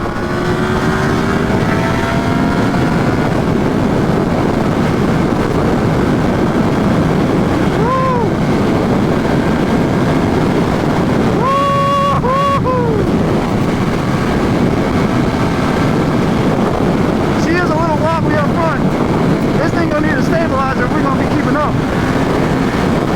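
A Yamaha FZ-10 motorcycle being ridden with quick-shifter upshifts, its engine roaring under heavy wind buffeting, with brief clipped gear changes and a rising rev pitch, while a rider speaks now and then.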